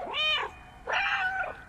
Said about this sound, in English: Either that or I've meowed like 5 times in the entire game.